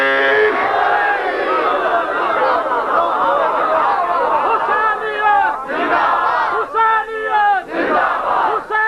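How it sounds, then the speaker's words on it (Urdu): A large crowd at a Shia majlis religious gathering roars the Nara-e-Haidari slogan in unison, a loud sustained chorus of many voices rising and falling in repeated waves. "ہاتھ بلند کر کے نعرہ حیدری۔"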